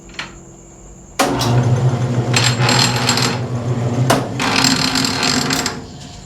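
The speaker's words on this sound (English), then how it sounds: "I'm engaging the gears so that we can use the automatic feed." A lathe gearbox clunks as its gears are engaged for automatic feed, with a sudden mechanical clatter and grinding whir that runs unevenly and briefly jolts again before fading, close by.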